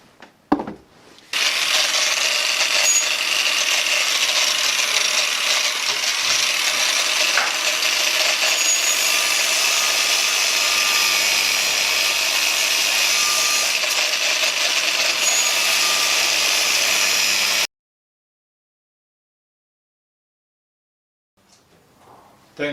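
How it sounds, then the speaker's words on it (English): An angle grinder fitted with a worn flap disc sharpens a Countax C300 lawn tractor blade, giving a loud, steady, close grinding whine for about sixteen seconds before it cuts off into silence. "So I'm just going to give them a bit of a tickle up with a flap disc in an angle grinder."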